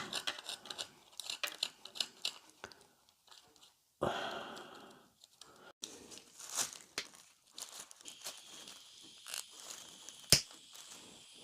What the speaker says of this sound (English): I'm going to try and just carefully scrape some of that corrosion off